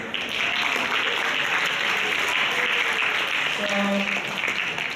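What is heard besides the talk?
lecture audience applause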